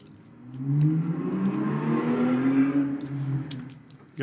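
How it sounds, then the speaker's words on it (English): Race cars running outside, a muffled engine drone that swells and holds steady before fading, heard indoors at a distance with a few light clicks near the end. "Got races going outside. Apologies for that."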